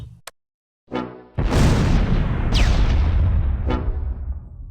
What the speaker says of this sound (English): Reed takes mortar fire.